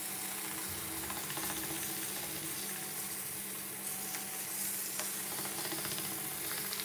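A wood lathe spins Chilean Laurel at a reasonably slow speed, giving a continuous mechanical hum with a soft, steady cutting hiss and faint clicks throughout.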